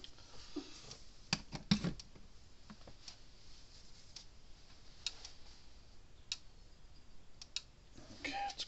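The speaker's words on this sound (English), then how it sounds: "Okay, it's clicking." A Gallagher M400 electric fence charger under repair clicks sharply and steadily, about once a second, each dry tick standing alone over a faint background hiss.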